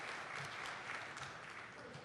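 Audience applause after a briefing at a Korean Ministry of Education R&D investment session, a steady wash of faint clapping throughout, heard from a distance.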